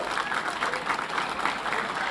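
Crowd applause at a temple chariot festival during a village fair, dense continuous clapping from many hands, steady and moderately loud for its whole short length.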